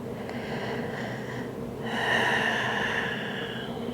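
Slow, deep breaths during a yoga child's pose, two close audible exhalations through the nose and mouth, the second longer and fuller, in a quiet room.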